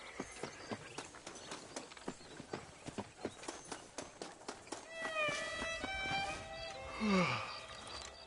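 Horse hooves in the Red Dead Redemption video game clip-clop in a steady, even rhythm for several seconds. Other game sounds and tonal noises then take over, all fairly quiet.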